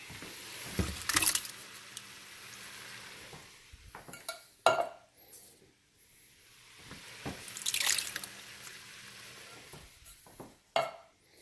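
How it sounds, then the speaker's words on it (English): Canned tomatoes dumped into a pot of chili stew, heard as wet plopping squishes and drips with scraping clatter of a can and utensil against the pot, in two separate bursts with quieter pauses between, close by and without talking. "So what we're going to do is just go ahead and dump in the tomatoes."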